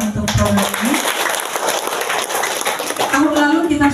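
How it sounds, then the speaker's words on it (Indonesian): An audience claps steadily at an Indonesian government event where a regent hands out free corn and mung bean seeds. The applause is loud and sustained, with a voice speaking over it at the start and end. "Tepuk tangan untuk program ini."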